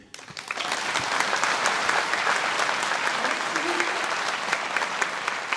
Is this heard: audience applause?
yes